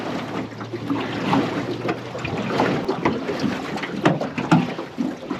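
Wind buffets the microphone at sea around a small paddled boat, a steady rushing roar with gusty swells and faint water and paddle knocks beneath, close and continuous with no talk.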